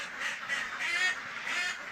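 Laying ducks kept in a pen quack faintly in a steady chorus that rises and falls in short overlapping bursts, with no talking.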